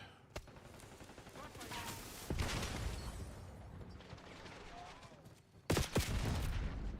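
Chaotic Black Ops 6 multiplayer firefight: sustained bursts of gunfire with sharp, heavy bangs like grenade blasts, loud and continuous, no voices.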